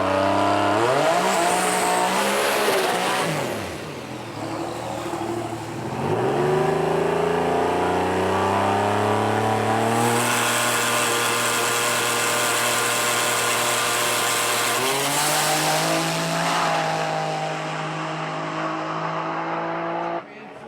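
A 3,000-pound V6 Mustang race car accelerates hard down the track, its engine note climbing loudly through several gear changes, with brief dips between shifts and a continuous strained roar throughout.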